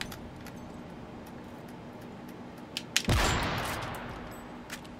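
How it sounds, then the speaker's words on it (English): A grenade explodes in Modern Warfare 3 multiplayer, preceded by a few sharp clicks and pops, then a sudden loud close blast whose rumbling tail decays over about two seconds amid faint background game noise. "Holy, that's a grenade."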